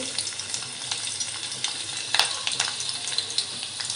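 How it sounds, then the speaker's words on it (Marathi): Garlic frying in hot oil for a Konkan dry fish curry, a continuous close sizzle and crackle with small pops and one sharper spatter, steady throughout. "त्यानंतर आपण तेलावर लसूण ॲड करणार आहोत"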